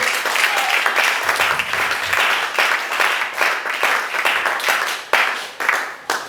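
An audience bursts into sustained applause and clapping to acclaim the Lord during a church workshop, a dense, steady roar of many hands filling the room from start to finish.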